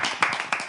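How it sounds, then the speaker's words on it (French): A few people clapping to welcome a guest onto a TV studio set, a brief scattered patter of hands with a couple of sharper claps, moderately close. "J'aimerais quand même vous exhorter à accueillir avec des applaudissements notre invité sur le plateau avec nous."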